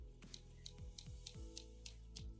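Repeated crisp snips of scissors cutting paper, about eight quick cuts at an uneven rhythm, close and clear against a quiet background.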